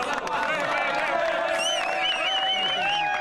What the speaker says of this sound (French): Tandis que le champion marocain se fait applaudir